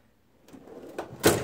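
A metal socket drawer on a tool box slides open or shut, a short scraping glide ending in a louder rattling clack, close by with no talk.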